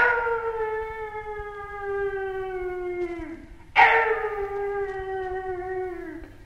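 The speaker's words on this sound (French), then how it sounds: "C'était le chien qui hurlait à la mort." A dog howls in a long, steady, wailing tone that slowly sinks in pitch, then breaks off and starts again with a sharp rise before trailing down once more. It is loud and close, with no voices over it.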